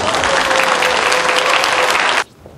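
A loud, dense burst of audience clapping at a family event featuring an opera tenor, sustained for about two seconds before cutting off abruptly, with a faint held vocal tone riding underneath.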